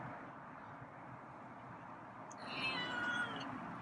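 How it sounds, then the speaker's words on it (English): A feral cat gives a short, drawn-out meow near the end, rising over a steady low background hum. "Okay, there's a meow."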